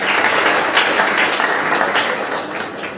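Loud, dense applause from an audience at a Hindi Diwas celebration held at a school, continuous and close throughout, with a faint hint of voices mixed in.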